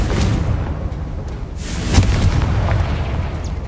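A Confringo fire spell bursts in the wizarding game Hogwarts Legacy, a dense, rumbling explosive roar throughout with a sharper crack near the middle, loud and continuous.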